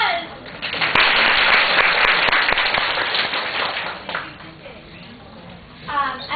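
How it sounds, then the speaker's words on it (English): An audience applauds a teacher with a dense burst of clapping that swells, holds, then thins out as talk resumes. "Maybe give her a round of applause."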